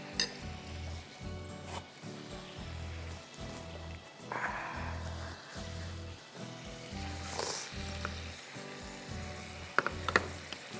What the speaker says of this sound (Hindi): और फिर मैं सारा मसाला फ्राई करूँगी।